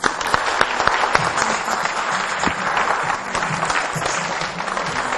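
Studio audience on a French-language TV variety show applauding a guest, a dense, steady wash of many hands clapping at close range that holds throughout without pause.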